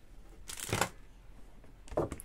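Paper gift pouch being creased along its fold for a Christmas wrap: two short crisp rustling bursts of paper, one near the start and one near the end, close and fairly quiet with no talk.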